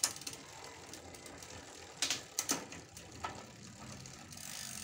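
A Bridgestone 7-speed bicycle gear shifter clicks through gears, a few sharp, close ratcheting clicks over a steady background hiss, clustered around the middle of the clip.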